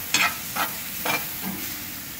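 Food stirred in a skillet over a grill gives a few scraping strokes over a constant frying sizzle, close and moderately loud.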